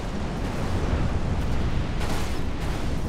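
Sustained gunfire and explosions from a combat video game crackle through a dense, loud wash of noise with no clear individual shots, steady throughout.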